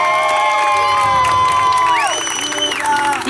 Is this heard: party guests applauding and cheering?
yes